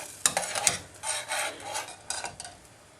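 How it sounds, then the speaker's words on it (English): Kashmiri masala paste simmers gently in a pan, giving soft bubbling, popping and sputtering in irregular bursts, with a few sharper spits, close and moderately quiet, no talking. "So this just wants to be on a nice gentle simmer."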